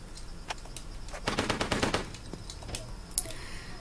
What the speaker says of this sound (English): So just beware, if he's shooting, he can get you.